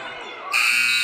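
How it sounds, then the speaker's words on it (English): End-of-quarter buzzer at a high school basketball game sounding loud and steady partway through, over crowd and gym noise. "And the buzzer goes to end the quarter."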